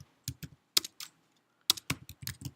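Someone types on a computer keyboard in short, irregular bursts of close, crisp key clicks with brief pauses between them.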